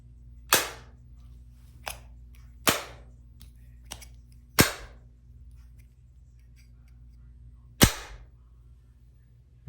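The charging case of Havit TW917 true wireless earbuds snaps shut again and again, giving five crisp, sharp clicks at uneven intervals, close up against a quiet background with no speech.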